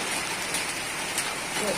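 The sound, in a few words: rain falling on a rainy day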